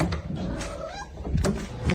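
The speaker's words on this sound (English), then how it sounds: "What a funny cat." A cat close by makes short vocal sounds amid household noises such as a cupboard or door, with brief bursts spread across the moment and a person's voice faintly present.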